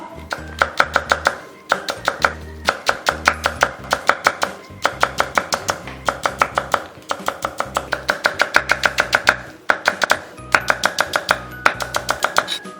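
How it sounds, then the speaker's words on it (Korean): A knife thinly slices green onion (daepa) on a cutting board in fast, even bursts of close, crisp chopping taps, pausing briefly between runs. "대파는 가급적이면 최대한 얇게 썰어주는 게 좋습니다."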